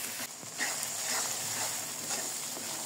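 Masala with salt and turmeric for chicken biryani fries and is stirred in a pan, giving a continuous close sizzle with light scraping and stirring scuffs throughout.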